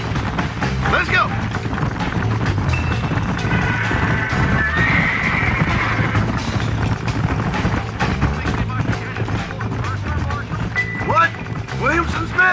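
Horse in Red Dead Redemption 2 neighs and whinnies loudly while its hooves pound in a steady gallop, with rushing movement noise throughout; voices speak briefly in the game.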